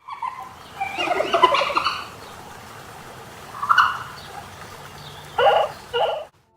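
A Mononychus dinosaur from a video game gives loud, bird-like chirping calls: a harsh burst near the start, a short squawk midway, then two sharp chirps near the end, with faint background between.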